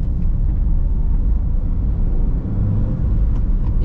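A Honda Brio's engine shifting into second gear, a steady low rumbling drone heard from inside the car, constant and fairly loud with no clear rev change.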